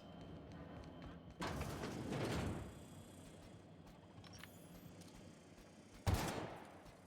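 A powerful, oddly designed pistol fired in The Outer Worlds sci-fi game, with two loud shots close together early on and another after a pause, over a steady game ambience.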